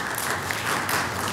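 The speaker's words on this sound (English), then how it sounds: "Let's give them a round of applause for that." Brief burst of steady clapping from an audience of senior citizens at a community gathering, a dense even patter heard at moderate distance.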